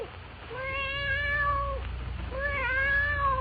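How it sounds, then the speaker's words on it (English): Black cat mewing plaintively, two drawn-out, wavering meows close by, separated by a short pause, over a faint low hum. "a cold black cat that, awakened by the opening of the door, rises and stretches, mewing plaintively"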